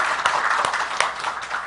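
A small group at an official meeting gives a short burst of applause, a light patter of hands with a few sharper individual claps standing out.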